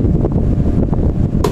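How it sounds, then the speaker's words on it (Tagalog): A loud, steady whoosh of an electric fan on speed 3, running from a DIY LiFePO4 power pack through an inverter, with a constant close airflow roar and a brief sharp knock at the end. "Kumana yung ating electric fan na yan."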